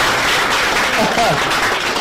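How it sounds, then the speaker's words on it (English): Audience applause at a televised quiz competition, a dense steady burst of clapping from a crowd filling the whole moment, with a voice briefly audible over it. "Another applause for him."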